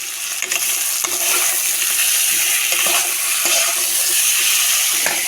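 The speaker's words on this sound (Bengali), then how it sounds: "তারপরে চাল কুমড়ো ভাজাটা এখানে বসিয়ে দিয়েছি" Ash gourd frying in a pan on a home kitchen stove, a steady loud sizzle running throughout with occasional stirring scrapes and clatters, no voices.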